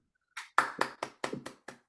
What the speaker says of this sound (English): Please come off of mute and clap it up.